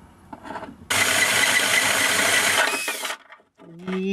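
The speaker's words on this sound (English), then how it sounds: "now I gotta go from the other side and drill it out" A power drill whines at a steady high pitch for about two seconds while drilling a hole in a boat hull, then winds down and stops, followed by a brief mechanical squeak.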